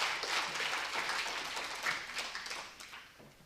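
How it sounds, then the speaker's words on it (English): Audience applause at a ladies' training camp in Dubai, a steady wash of clapping from a crowd that holds for a few seconds and then gradually thins out and fades. "please invite her with a big round of applause"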